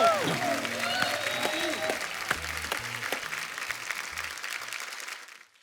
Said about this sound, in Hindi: जोरदार तालियां एक बार सबके लिए।